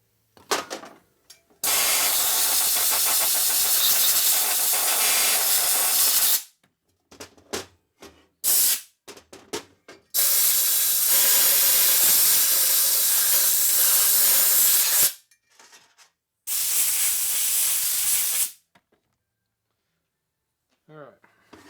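Compressed air blasts grit out of the holes in a 1947 Harley-Davidson EL knucklehead 74ci engine case: loud, steady hissing bursts of several seconds each, separated by short quiet gaps and a few brief puffs.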